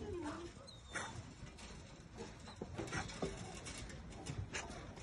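Young puppies whimper and yip softly in short, scattered bursts while they crowd around an empty feeding bowl, with a person talking over them.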